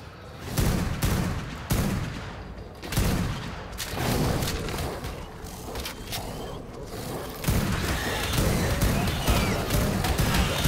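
Repeated gunfire and booming blasts from a multiplayer video game in a lava cave, loud bursts recurring every second or two over a steady rumbling background, with no clear talk over it.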